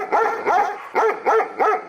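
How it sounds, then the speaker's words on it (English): Five rhythmic dog barks, loud and close, evenly spaced with no talking, closing out an episode of a sports podcast. "Bark, bark, bark."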